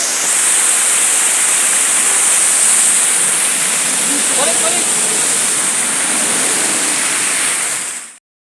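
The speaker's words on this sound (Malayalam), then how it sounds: "ഭാഗമണ്ഡല ടൗണിനടുത്തുള്ള അതിമനോഹരമായൊരു വെള്ളച്ചാട്ടമാണ്" A waterfall near Bhagamandala town roars as a loud, steady, close rush of water that holds unbroken for several seconds before cutting off.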